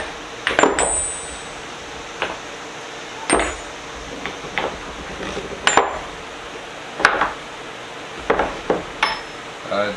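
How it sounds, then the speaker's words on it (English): Heavy-duty metal sockets clink and clatter sharply in irregular bursts as they are handled and set down, close by, with light background noise between. "This is all the heavy duty sockets."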